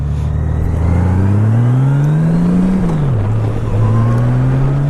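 A big, powerful motorcycle engine revs close by, its pitch climbing, dipping sharply, then rising again in a loud, continuous drone.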